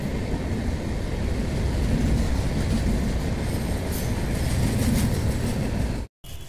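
Clone Humsafar Express train 02569, bound from Darbhanga to New Delhi, speeds through Deoria Sadar station without stopping: a loud, steady roar of rolling wheels and clattering coaches runs throughout before a brief cut near the end.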